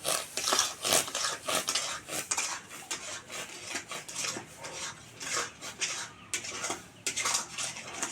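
Sugar is stirred in a pan as it melts, heard as repeated scraping and clinking of a spoon against metal in an uneven rhythm, close and moderately loud.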